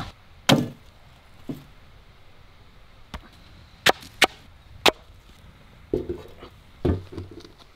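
A knife chops through a large, rough-skinned elephant foot yam (senai kizhangu) on a board, a series of sharp, separate thuds and cracks spaced irregularly, close and loud against a quiet room.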